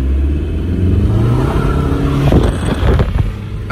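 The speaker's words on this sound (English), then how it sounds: "Spun the tires" A Volkswagen TDI car, freshly fitted with new injector nozzles, accelerates hard from close by, its engine rising in a loud, strained roar before the tires spin and chirp briefly near the end.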